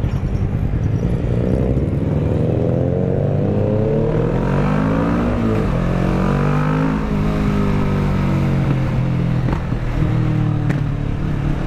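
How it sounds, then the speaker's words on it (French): Motorcycle engine note with rising and falling harmonics from a bike ridden while escorting a rally car on the Béthunois 2020 rally, loud and steady over the full length, with some clatter but no clear distinct exhaust crackles and no talk. "J'adore la ligne quand elle craque comme ça"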